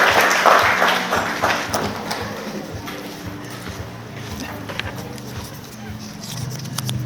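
Audience applause at a Korean design seminar welcomes Andersson Bell director Kim Do-hoon, loudest in the first second and then thinning into a low patter beneath talking voices.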